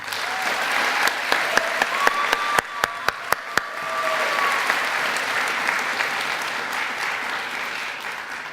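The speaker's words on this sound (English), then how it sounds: "Please give them another round of applause." A graduation ceremony audience applauds, a long wash of crowd clapping with several sharp, loud individual claps standing out near the microphone early on, then continuing as a steady broad roar.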